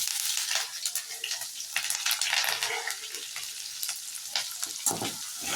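Green chilies, onions and curry leaves sputter in hot tempering oil for poha upma, with a dense, crackling sizzle close up and a few stirring scrapes mixed in.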